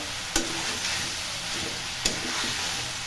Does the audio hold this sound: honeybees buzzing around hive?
no